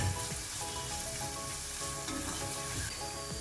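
An okra stew base seasoned with salt sautés in a pan, crackling and sizzling loudly and steadily up close, with faint scraping as it is stirred and no talking.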